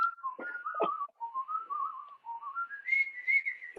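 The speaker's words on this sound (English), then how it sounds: "I'm whistling all the time" A person whistles a wandering, melodic tune by mouth, close and clear, with short breaks between sliding phrases that rise in pitch toward the end.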